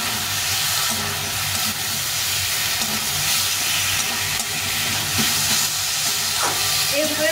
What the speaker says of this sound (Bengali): এর সঙ্গে আমি আলু বেগুনটা কষিয়ে দিচ্ছি।